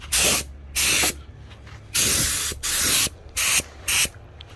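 Bursts of spray paint laying another coat onto a Holden Monaro HQ coupe, five or six short hissing passes separated by pauses, close and loud with no talking.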